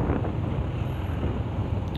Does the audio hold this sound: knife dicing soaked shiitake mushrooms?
no